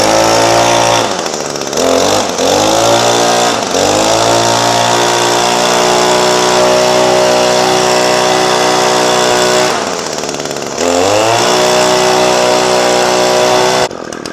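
Shindaiwa T235 weed eater's small two-stroke engine idling high, a loud steady buzzing drone that briefly dips in pitch around the second, fourth and tenth seconds before settling back to a constant whine.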